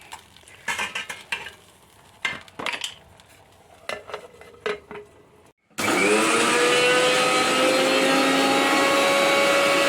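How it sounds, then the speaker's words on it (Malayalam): An electric mixer grinds coconut, kicking in abruptly midway with a loud, steady whirring drone after a stretch of scattered kitchen clatter and stirring sounds. "എന്നിട്ട് നമുക്ക് തേങ്ങ അരയ്ക്കാം"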